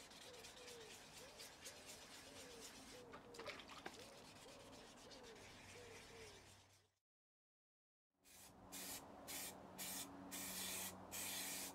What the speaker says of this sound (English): For the primer, I did use rattle cans